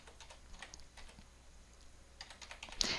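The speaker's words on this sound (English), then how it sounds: "Type in the local holding record control number" Light, quick keystrokes on a computer keyboard tap out a control number, soft and close, with a sharper click or two near the end.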